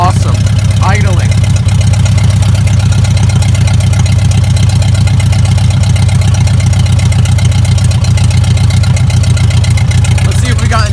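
A 1966 International Scout engine, revived after sitting for 36 years, idles steadily and loudly up close with a continuous low rumble, while a voice talks over it at the start and near the end.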